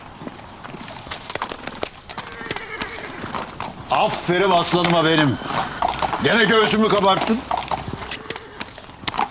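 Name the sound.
horse hooves clip-clopping, a yılkı horse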